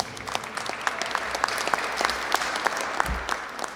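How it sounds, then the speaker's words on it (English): An audience at an after-school programs gathering gives the technical assistance team a dense, steady round of applause with sharp individual claps throughout. "We can give them a round of applause."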